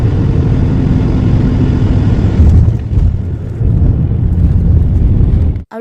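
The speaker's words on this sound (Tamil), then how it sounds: "லேண்ட் ஆகும்போது அந்த ஃப்ளைட்டோட சவுண்ட் பயங்கரமாக இருக்கும்." Passenger jet touching down in Chennai, a loud continuous engine roar with heavy low rumble that swells around the middle and holds steady before cutting off abruptly at the end.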